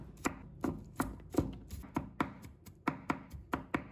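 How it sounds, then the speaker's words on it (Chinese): A kitchen knife cuts garlic on a cutting board in about ten crisp, evenly spaced chops, close and clear with no talking. "再准备1把大蒜，把它切成片。"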